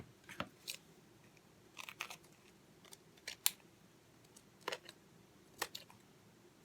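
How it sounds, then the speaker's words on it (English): Scissors snipping paper remainders for a flash card journal: a handful of sharp, quiet, close cuts and crisp crunches scattered irregularly over a faint background hiss. "So today, I think I'm just going to go ahead and cut off the remainders."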